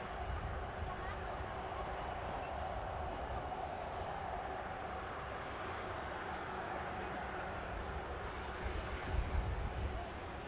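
An Air X Embraer Legacy jet at Manchester Airport gives a steady, broad engine roar that holds for several seconds at moderate distance, with no speech over it.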